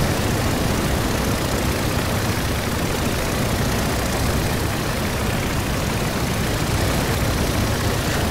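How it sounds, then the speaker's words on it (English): A SPAD biplane engine in the flight combat game Rise of Flight drones steadily as it loses power after an oil leak during a dogfight, a dense constant roar with no talk over it. "Oh, I can feel the engine losing power here."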